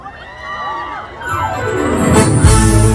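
A festival concert audience at a food culture fair swells into loud cheering, whoops and shouts, building from scattered voices to a full roaring crowd within a few seconds.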